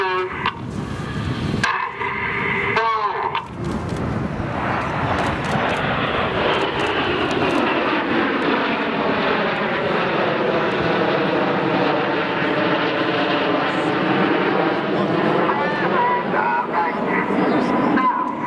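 Display team jets perform a shuttle roll at the Farnborough Airshow, a loud, sustained jet roar sweeping past with a rising and falling Doppler tone; a commentator talks at the start.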